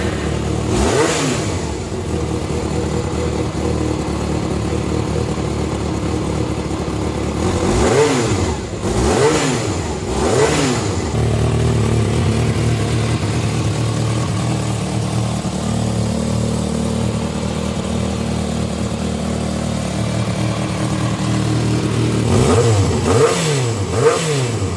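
A Japanese 400cc motorcycle engine runs loud and close, with the engine note rising and falling through several sharp revs near the start, in the middle and at the end, over a steady rumbling idle.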